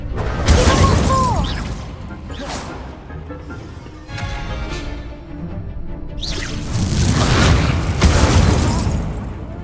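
Confringo fire spells go off in the video game Hogwarts Legacy as a run of loud, booming blasts with whooshes and crackling bursts, rising and falling in waves over game sounds and some speech.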